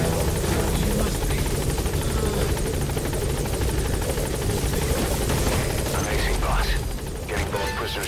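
Helicopter arriving at a landing zone in Metal Gear Solid V: The Phantom Pain, a loud, continuous rotor thump and engine roar filling the whole clip, with in-game radio voices speaking over it.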